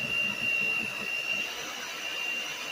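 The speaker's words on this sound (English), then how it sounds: "Go ahead and mix these ingredients together really, really well using your hand mixer." An electric hand mixer whirs steadily while blending the ingredients for a keto strawberry ice cream pie, including powdered sweetener. The motor drone holds at an even, fairly loud level throughout, with no voices.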